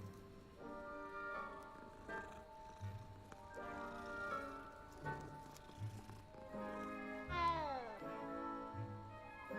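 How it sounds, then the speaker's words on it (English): A cat in the video game Hogwarts Legacy meows several times, with tonal cries spread across the stretch and one rising, louder meow near the end, set against a soft background. "Oh, kitty!"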